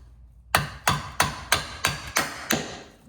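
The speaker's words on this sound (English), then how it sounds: "kind of just hammer it loose." A flathead screwdriver is hammered against the nub of an inner boot clamp on a Corvette drift car being rebuilt, giving seven sharp, close metallic taps at a steady, even rhythm.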